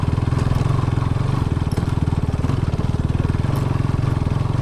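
A Bajaj Pulsar NS200 motorcycle engine runs steadily at idle, close and loud, with an even, rapid throbbing pulse throughout.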